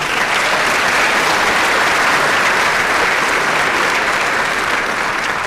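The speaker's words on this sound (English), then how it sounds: "So I think they deserve one more round of applause." Dense, steady applause from a large high school graduation audience honoring the band, chorus and honor guard, sustained and loud at an even level throughout with no talk over it.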